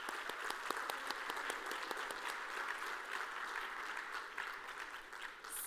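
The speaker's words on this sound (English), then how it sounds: "Please give them a huge round of applause." A large audience at a food summit applauds steadily, a dense, even wash of many hands clapping that holds for several seconds. It sounds somewhat distant and fairly soft.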